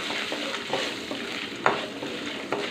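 A frying tempering of turmeric, ginger pieces, green chillies, curry leaves and peanuts sizzles steadily in a pan while a utensil stirs it, with a few brief scraping knocks, close and alone.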